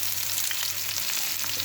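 Vegetables fry in hot oil in a pan while a Bengali fish curry is being made, giving a steady, close hiss and crackle with no voices.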